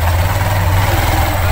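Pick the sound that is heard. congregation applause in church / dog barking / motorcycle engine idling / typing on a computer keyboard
motorcycle engine idling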